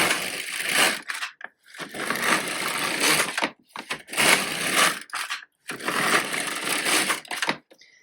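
An LK150 knitting machine knits rows of tuck stitch as the carriage is pushed back and forth across the bed, giving four loud rasping, clattering passes, each about a second long, with brief silences between them.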